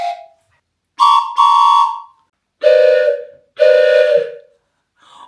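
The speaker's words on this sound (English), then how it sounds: "It's another train whistle." A 3D-printed toy train whistle blown in four separate blasts, loud and close, each a steady reedy chord with short gaps between.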